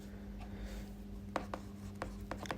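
Chalk or marker writing on a board during a vector maths lesson, with a run of short scratchy strokes, several sharp taps and scrapes close by over a low steady hum.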